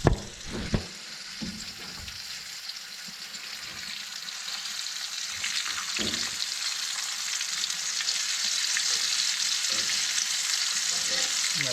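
Trout sizzles steadily in a pan of hot lard over a flame, with a continuous bright frying hiss throughout, a few soft clanks and stirring bumps near the start, and no talking.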